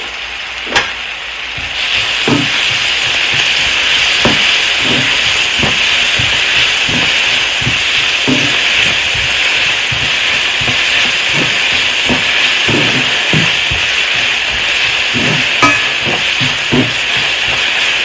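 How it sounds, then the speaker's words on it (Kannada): Ginger garlic paste and salt fry in a hot pan while an aloo gobi palya is cooked. A steady, loud sizzling hiss comes in after a quiet first moment and carries on evenly, broken by small scraping clicks from stirring. "ಇದೆಲ್ಲನೂ ಕ್ಲೀನಾಗಿ ಫ್ರೈ ಮಾಡ್ಕೋಬೇಕು."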